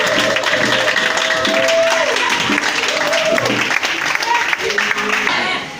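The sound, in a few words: congregation applauding and cheering in church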